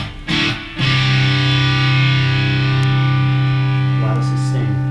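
An electric guitar runs through a boost pedal that overdrives its reverb and delay, a brief attack followed by a thick, sustained distorted note ringing on loudly.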